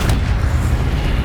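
An Accio spell is cast in Hogwarts Legacy, giving a brief, heavy booming thump with a rumbling low-end body, loud and close.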